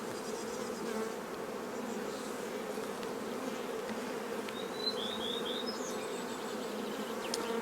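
Honeybees buzz around a hive frame in a dense, steady drone, close and continuous, with a few brief higher whines from single bees passing by and no voices.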